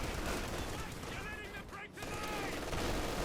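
A 40mm anti-aircraft gun firing in the Company of Heroes 2 strategy game, a dense, continuous stream of rapid shots mixed into constant battle noise, with a brief lull midway.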